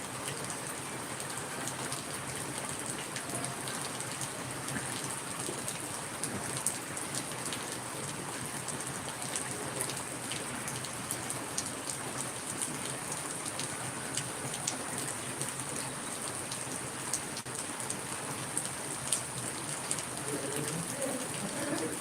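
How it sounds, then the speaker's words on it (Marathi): Steady rain falls continuously, a dense even patter on surfaces with occasional louder drops, with no voices. "पाऊस पडतोय बघा"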